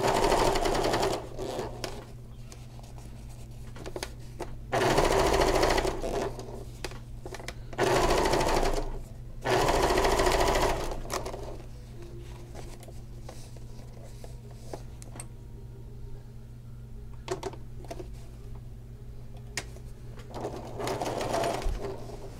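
A sewing machine stitching vinyl runs in several loud bursts of rapid mechanical chatter, separated by quieter pauses with faint handling noise.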